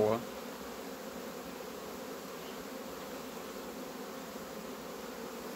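Honey bees buzz steadily around a hive frame holding young larvae and eggs, a dense, even drone that carries close and unbroken throughout, with one brief sharper sound at the very start.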